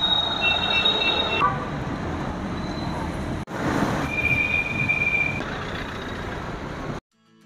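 Rail traffic at Sealdah station in Kolkata, with a steady mechanical rumble, high-pitched wheel squeals and a brief electronic tone amid busy platform noise, ending abruptly.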